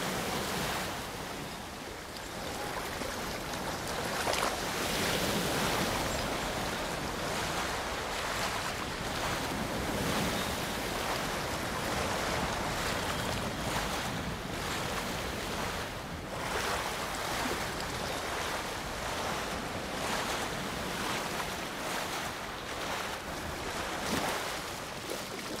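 Ocean waves and water washing steadily in Ghost of Tsushima on Iki Island, a continuous broadband surf wash with wind, moderately loud and unbroken throughout, with no voices.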